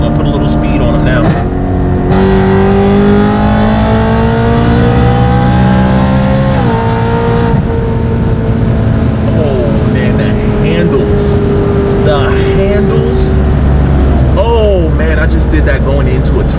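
A V8 BMW M3 accelerates along winding roads, the engine note rising and falling through gear changes and turns, loud and close from inside the car, with occasional voices over the engine.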